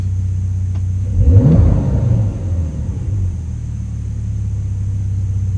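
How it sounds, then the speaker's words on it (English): A Porsche 911 (992) Carrera 4S with its exhaust valves open gives a low, droning exhaust rumble that swells briefly into a rev near the start, then settles into a steady hum. "It's not the engine sound, it's the exhaust sound."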